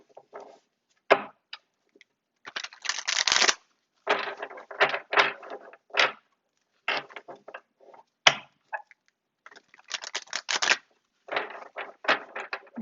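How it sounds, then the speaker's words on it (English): Tarot cards are shuffled in quick, crisp bursts of riffling and tapping, close and fairly quiet, with short pauses between. "Let's go ahead and shuffle these cards."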